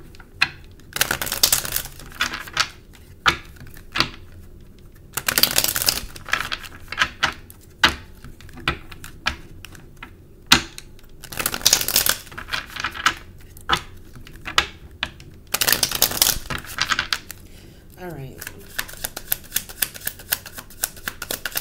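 Twin flame journey oracle cards shuffled near by, with crisp rapid card riffles and taps arriving in bursts separated by short pauses.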